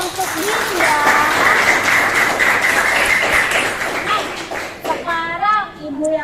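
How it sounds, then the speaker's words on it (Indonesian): Classroom students clap for a classmate named Dinda, a loud, steady patter of many hands that fades near the end as a voice and other chatter come through. "Beri tepuk tangan untuk Dinda."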